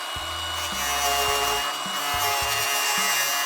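Interior carpet being cut in a Porsche: a loud, continuous rasping scrape with repeated rhythmic stroke patterns, close up and with no talk.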